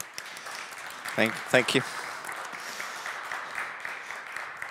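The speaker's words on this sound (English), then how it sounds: "Round of applause." Summit audience applauding a speaker's welcome, a steady wash of clapping at moderate volume, briefly overlapped by a short spoken thanks near the middle before the applause carries on.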